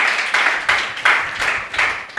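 A congregation at a Wednesday worship service claps in praise, loud, even rhythmic claps repeating roughly every third of a second with no talk over them.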